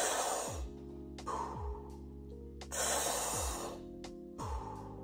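Deep, forceful breaths of the Wim Hof method come in a steady cycle, each a rushing inhale followed by a long exhale, repeated about four times close up with a low hum underneath.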